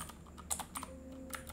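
Quick bursts of typing on a computer keyboard, a handful of separate keystrokes clicking close and clear at an uneven pace, with no voices.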